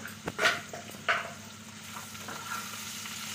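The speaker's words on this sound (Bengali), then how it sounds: "তো এটা ভালো করে নেড়ে নেব।" Bottle gourd curry with cumin and spices is stirred in a frying pan: a few sharp spatula scrapes and knocks stand out near the start over a soft, steady sizzle, with no speech.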